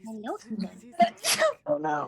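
A sharp, violent sneeze bursts out loudly mid-clip during a tabletop role-playing session, with several people talking just before and after it.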